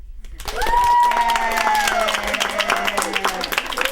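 Audience applause at the close of a talk, sustained clapping from a crowd with a person speaking over it in a tonal, sliding voice.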